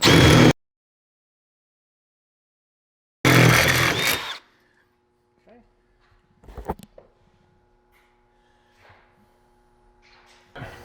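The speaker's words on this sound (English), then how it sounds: "just come in and drill it, making sure you don't catch too fast and go in through there" A power drill whirs in two bursts, a short one and a longer one, drilling to install a tire carrier on a 2019/2020+ Sprinter van, followed by quiet clicks and faint handling sounds.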